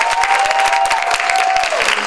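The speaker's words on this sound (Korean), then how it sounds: "큰 박수 좀 부탁드리겠습니다." Audience applause at a Handong Global University show in Pohang, dense and steady clapping from a crowd over the whole stretch, with a faint sustained tone running beneath the first part.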